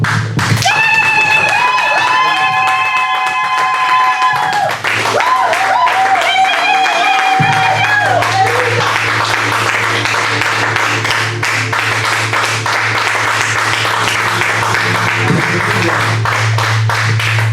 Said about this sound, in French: je veux que tu acclames pour le Seigneur